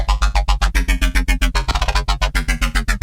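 A driving Serum synth bass pattern with a delay effect repeats in quick pulses, with echoing repeats smearing between notes for a wetter, washier sound.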